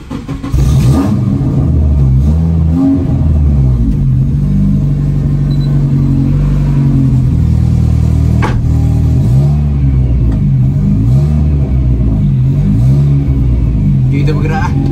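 A Honda CR-Z hybrid starts from inside the cockpit and settles into a loud, close engine rumble with rising and falling revs. A voice talks over it.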